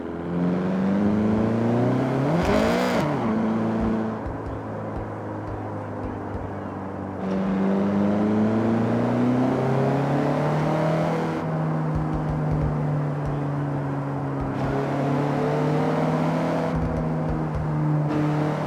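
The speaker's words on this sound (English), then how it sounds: "get the CRX up to speed" A Honda CRX engine in the Forza Horizon game revs and climbs steadily through the gears, a loud, close, whining drone that rises in pitch, drops at each shift and climbs again.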